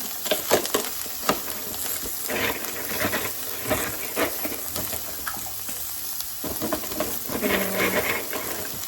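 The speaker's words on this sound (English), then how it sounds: "See the boiling water?" Water boiling for pasta shells bubbles and simmers in a pot close by, a soft continuous hiss dotted with small pops and gurgles, fairly quiet.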